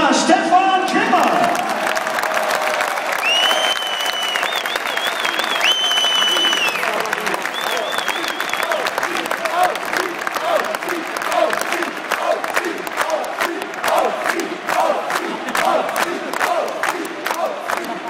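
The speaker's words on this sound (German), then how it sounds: "nochmal einen Applaus für unsere Mannschaft der Saison" Fans applaud and cheer in a football stadium at an Arminia season-opening training session, a dense, steady roar of clapping with whoops that carries loudly through the whole stretch, while an announcer's amplified voice sounds over it early on.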